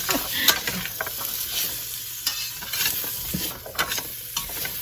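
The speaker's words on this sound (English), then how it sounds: "Now while that's sauteing" Food for cabbage soup sautés in a pan, a crackling sizzle broken by frequent scraping stir strokes and clinks, close and fairly loud.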